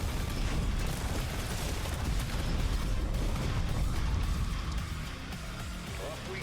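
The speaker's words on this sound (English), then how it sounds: "Let's see what explosions look like up close." Close-range explosions in the real-time strategy game Tempest Rising, a dense, continuous roar of blasts and rumbling mechanical noise that stays loud and steady, easing slightly near the end.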